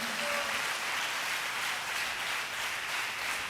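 A church congregation claps loudly together during a pastor's special message, a dense, steady wash of applause that holds at full strength for the whole stretch.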